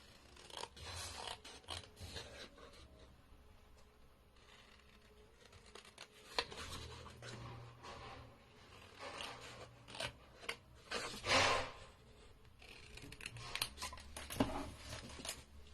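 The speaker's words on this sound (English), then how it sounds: "So I'm just cutting around." Scissors snip around a card pop-up hexagon at close range, giving a quiet run of irregular cuts and paper rustles with louder bursts near the middle and toward the end.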